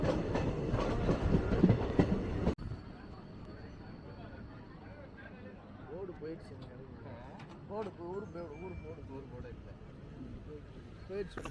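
A Madurai–Sengottai passenger train rolls along the rails with a steady rumble and faint clickety-clack over the whole stretch, loud at first and then softer, with distant voices mixed in.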